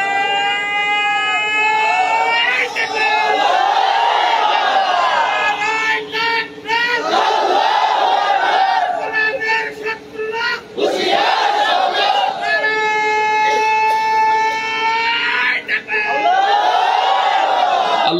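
Large crowd at an Islamic sermon shouting slogans in loud, surging unison waves, with several sustained chanted cries rising and falling, briefly dipping between bursts.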